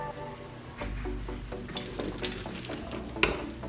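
Boiled potatoes tumble into a strainer as the hot water drains off, a short close burst of splashing and rushing water with a clatter of pan and colander, no voices.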